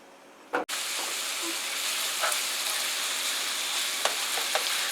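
Ground beef browns in a hot pan for a hashbrown and beef casserole, giving a steady, even sizzle throughout. A brief thump comes near the start, with a few faint clicks and pops over the hiss.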